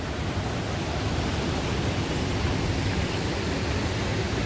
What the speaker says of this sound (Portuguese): temos cachoeira em Monte Sião. Olha que delícia. A água tá barrenta porque choveu, mas olha o barulho